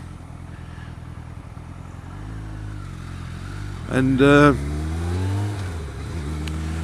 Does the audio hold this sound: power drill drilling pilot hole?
no